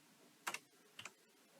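Someone types a command into RStudio on a computer keyboard: two quick, quiet clusters of key clicks about half a second apart, close up against near silence.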